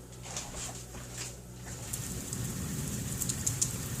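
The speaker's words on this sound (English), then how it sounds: "it is now raining while we are having the barbecue. It's thundering and lightning." Rain patters steadily on surfaces outdoors during a venison barbecue in a severe thunderstorm, a soft continuous hiss that thickens midway, with faint distant thunder and occasional bird or dog sounds in the background.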